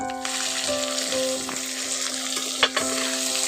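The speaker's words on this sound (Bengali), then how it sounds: "এখন ফোড়নটাকে একটু ভেজে নিয়েছি এবার দিয়ে দিচ্ছি পেঁয়াজ কুচি" Chopped onions fry in hot oil with dry red chillies, cardamom, cloves and cinnamon for a whole-garlic chicken curry, a loud continuous sizzle close by with a couple of brief clinks near the end.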